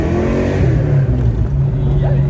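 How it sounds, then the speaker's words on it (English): A 1988 Ford Mustang GT convertible with a 5.0 V8 and five-speed manual, its engine rumbling steadily under light throttle while driving, loud and close, with a voice speaking over it. "we'll give it a little bit of throttle here."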